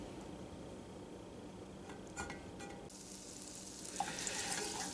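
A tablespoon of butter melts in a pan for a roux, giving a faint, soft sizzle with a few light clinks of utensils, and the sizzling grows somewhat brighter toward the end.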